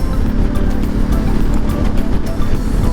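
A Ducati Multistrada 950 engine drones loudly while riding, mixed with heavy wind and road rush, constant and close throughout the short stretch, with no talking.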